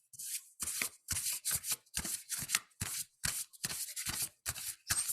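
A deck of tarot cards is shuffled by hand in quick, repeated riffling bursts, close and steady, with short pauses between strokes and no talking.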